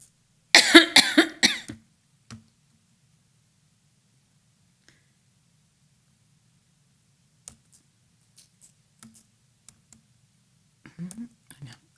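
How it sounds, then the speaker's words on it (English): A burst of several harsh coughs from one person comes in the first two seconds, loud and close, during a city council meeting, followed by near silence with scattered faint clicks and small rustles. "I was coughing"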